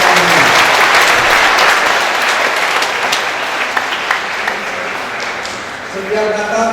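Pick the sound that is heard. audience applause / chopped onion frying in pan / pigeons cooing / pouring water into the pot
audience applause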